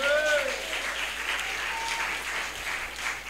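Church congregation applauding during a preaching service, a steady wash of many hands clapping that fills the whole stretch, with faint voices and a brief higher tone mixed in.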